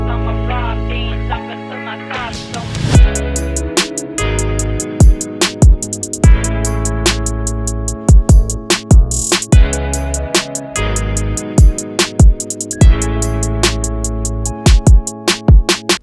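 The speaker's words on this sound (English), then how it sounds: "Then all together, our beat sounds like this." Full trap beat: a sparse intro builds into the drop, where deep 808 bass and a bell melody join punchy kicks, snares and busy hi-hats, looping loudly with no talking.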